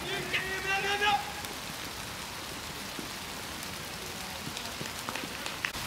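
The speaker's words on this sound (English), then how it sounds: "Rain's a little heavier, but the umpires have had a chat and they're going to play on." Rain falls steadily during a club cricket match as a constant hiss of drops on the surface. Faint voices come through early, and a few soft knocks occur under the downpour.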